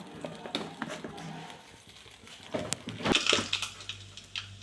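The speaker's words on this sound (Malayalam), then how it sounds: "അതിലേക്ക് നമുക്ക് കുറച്ച് കടുകെടുത്ത് പൊട്ടിക്കാം" Mustard seeds sputter and pop in hot butter in a pan while a jackfruit seed pickle is being made. The crackles are sharp and scattered and grow into a denser burst of popping near the end.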